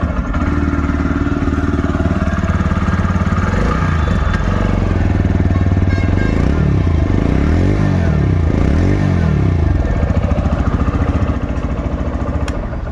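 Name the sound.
TVS Raider 125 motorcycle starting and engine running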